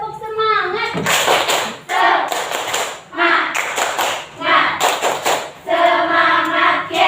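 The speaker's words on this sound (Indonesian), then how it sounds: "Coba tepuk semangat." A class of fifth-grade primary schoolchildren performs a rhythmic spirit clap chant in a classroom, with bursts of sharp clapping alternating with children chanting and a teacher's voice.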